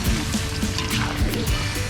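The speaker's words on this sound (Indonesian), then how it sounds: "Lanjut kita siram lagi pakai potongan cabai setan dan bawang merah." Chili pieces and shallots in a seasoning liquid poured over a goat dish land with a busy wet splatter and trickle, close and fairly loud, steady for about two seconds.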